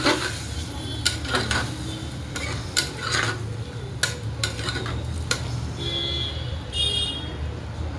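Washed rice scraped and stirred into hot oil in a cooking pot, with repeated sharp metal spoon clinks against the pot over a low steady sizzle.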